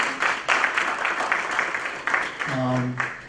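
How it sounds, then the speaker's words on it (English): An audience applauds presenters at a university alumni event on financial health, a busy patter of many hands that dies away as a voice begins speaking at the end. "another round of applause"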